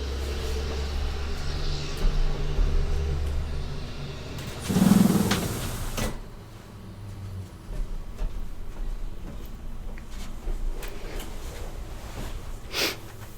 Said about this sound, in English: We have a dump truck deciding to drive by right now, and it's very loud.